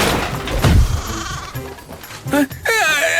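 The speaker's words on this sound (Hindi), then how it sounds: "एक बकरी भागती हुई आई" A goat bleats in an animated village story: a couple of short, wavering cries near the end, loud and close, following a thump and rustling scuffle, with a voice heard in the scene.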